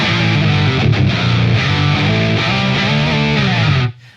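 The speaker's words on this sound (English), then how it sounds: "just fattening up tones with an octave down, a little bit of mix." A distorted electric guitar plays sustained chords thickened by a blended octave-down pitch effect, loud and full before cutting off abruptly at the end.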